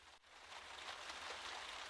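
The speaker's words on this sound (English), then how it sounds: "The rain outside continues to tap against the window" Rain tapping against a window on a rainy night, a soft continuous patter of drops, faint and even, with no voices.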